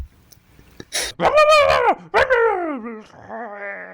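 A dog whines and yowls up close in two long, drawn-out, pitch-bending cries, ending in a softer whimper.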